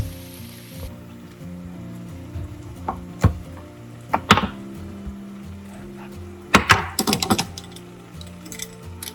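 A knife cuts through a ripe Costco mango, several sharp irregular chops and slicing knocks against a board, close, over a quiet background hum with no talking.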